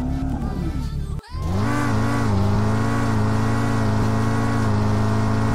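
A hypercar engine in the Jailbreak video game cuts out briefly, then roars back loud and sustained as it revs up and holds a steady high drone.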